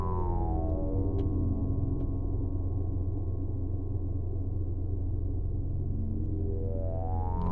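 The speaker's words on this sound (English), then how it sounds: "Now we have a lot of reverb." A deep, droning synthesized deep-ocean ambience built in VCV Rack, with washes of heavy reverb and slowly sweeping low tones, steady and unbroken throughout.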